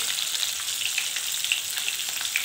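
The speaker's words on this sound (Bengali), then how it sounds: "এই যে ভোলা মাছটা ভাজতেছি, মশলাটা দিয়ে দিচ্ছি" Bhola fish frying in a pan with spices, a steady close sizzle of hot oil with small crackling pops scattered throughout.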